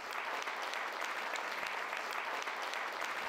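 Sustained audience applause at a snow queen event in Damüls, steady dense clapping at full level throughout, following a magic and cabaret performance.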